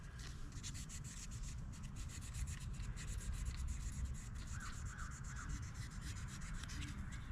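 A surface is polished by hand with 2000 grit sandpaper, giving a quiet, steady rubbing hiss in quick repeated strokes. Nobody speaks.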